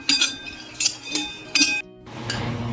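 Pumpkin seeds roasting in a little ghee give off sharp, bright crackles and clinks in several separate bursts, close and fairly loud, with a brief quiet gap before a softer sizzling continues.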